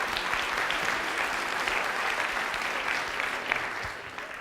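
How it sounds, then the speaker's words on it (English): Steady, dense applause from a live audience at a maths talk, rewarding a volunteer who helped on stage, fairly faint and even for the whole stretch before easing slightly at the end. "let's give our volunteer a big round of applause for making our space"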